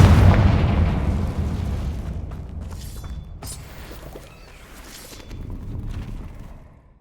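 A Confringo spell explosion in Hogwarts Legacy bursts with a heavy, loud boom at the start, then rumbles and fades with smaller cracks and debris sounds afterward.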